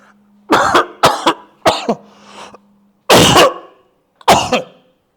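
Several loud, harsh coughs close up from a teacher with a cold, a quick cluster of three followed by two separate single coughs after pauses.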